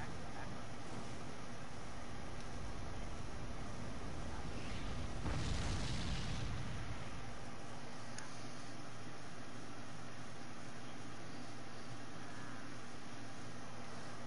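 A fire spell in a video game erupts in a loud whooshing blast midway, rising over a steady rumbling background ambience before fading back down.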